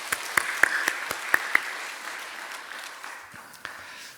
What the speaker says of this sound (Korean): 그분들 위해서도 한번 격려의 박수 하겠습니다